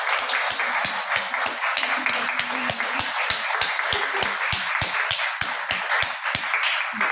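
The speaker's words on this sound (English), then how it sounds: "So a very big round of applause for everybody." Sparse, steady clapping from a small gathered audience celebrating a women's ordination event in Manchester, distinct individual claps ringing clearly in a room.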